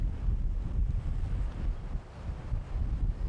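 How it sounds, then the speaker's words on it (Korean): Strong wind roars against the microphone on a small island's rough sea, a heavy low rumble with surging gusts and the wash of waves underneath, no voices. "거친 파도와 세찬 바람"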